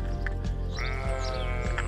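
Sheep bleat nearby, a wavering drawn-out call rising over a steady low background hum.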